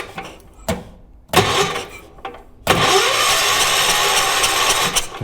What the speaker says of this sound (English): I think we got an engine that's running.